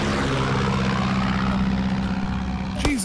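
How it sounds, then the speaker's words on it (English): A propeller airplane flies in the Far Cry 6 video game, its engine a steady droning hum that ends in a sharp burst near the finish. Speech runs alongside. "There is another plane"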